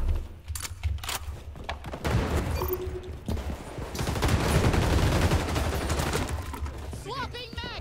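Gunfire rattles through a first-person shooter video game in repeated bursts and sustained volleys, loud and close, with game sounds and brief talk mixed in.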